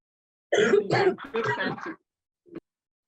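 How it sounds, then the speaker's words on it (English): A person coughs and clears their throat in a short rough burst, close to the microphone, followed by a brief softer cough after a pause. "I'm so sorry, because I have a cough."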